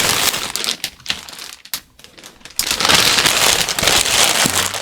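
Plastic packaging from a parcel of craft mail crinkles loudly and close up in bursts of crackling, with a short lull before the rustling picks up again.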